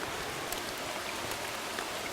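Steady rain falls on a river during a fishing outing, a dense, even hiss of drops on water that fills the whole moment without pause, fairly close and moderately loud, with no talking over it.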